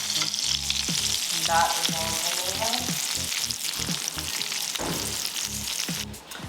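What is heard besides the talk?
beef frying and sizzling in a pan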